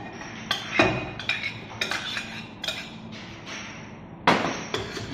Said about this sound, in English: We're just going to add some potatoes that are pre-mashed.